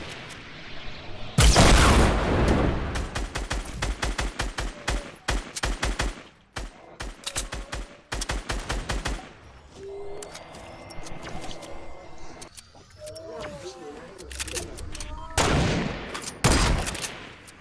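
Gunfire in the video game Fortnite: fast, loud bursts of shots in long strings, then scattered single shots and quieter game sounds, with brief voices.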